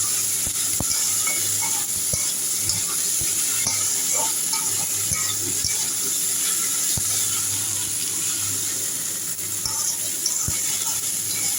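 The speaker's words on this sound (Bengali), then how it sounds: "নুন হলুদ দিয়ে আমি ঢেঁড়সটা ভেজে নিচ্ছি" Okra frying in a pan with salt and turmeric in a home kitchen gives a steady, continuous sizzle throughout, with occasional light stirring clicks and no talk.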